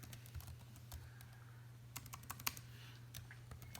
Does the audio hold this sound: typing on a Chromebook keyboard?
yes